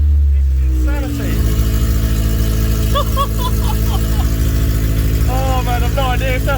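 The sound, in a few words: Honda Civic K-swap engine running at first start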